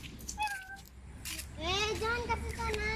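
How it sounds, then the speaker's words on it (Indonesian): A cat meows repeatedly at a children's playground in Tambunan district, giving a short cry and then longer drawn-out wails close by, with people talking around it. "Kucing pekan jalan-jalan di sini."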